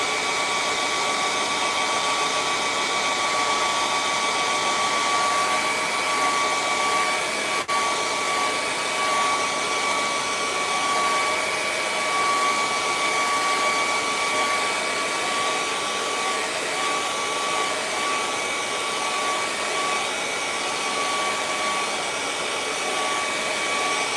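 A hair dryer blows continuously on a painted canvas to dry the paint, a steady, fairly loud whir with a constant tone that runs unbroken throughout and has no voices over it.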